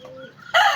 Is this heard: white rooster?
yes